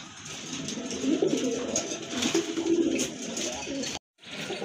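Pigeons coo softly and repeatedly against a busy background hiss, their low throaty calls overlapping, with a brief silent gap near the end.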